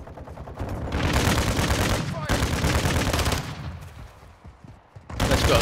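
Dense bursts of rapid automatic gunfire in a duos battle royale match on Ashika Island, loud and close, pausing briefly between volleys before another burst opens up.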